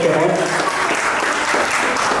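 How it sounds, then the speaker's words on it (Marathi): Applause at a child's first birthday celebration, a loud, dense burst of many people clapping close by, with voices mixed in as it continues. "सरासरी जरा जोरदार टाळ्या होऊन जाऊ"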